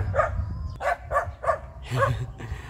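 A dog barks five times in short, spaced bursts, with whiny, whimpering tones mixed in and a low background rumble.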